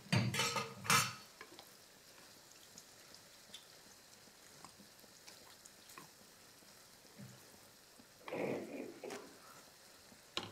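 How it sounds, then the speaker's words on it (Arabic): A spoon stirs hachis parmentier filling in a hot pan, with a soft sizzle throughout and louder scraping, stirring bursts at the start and again near the end. "نقعد نخلط"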